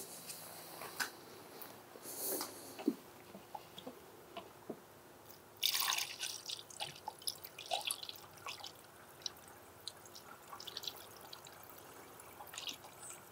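Diesel fuel pours from a container into a quart measuring container, a faint liquid trickle with scattered drips and splashes, quiet and close, with one brief louder gush partway through.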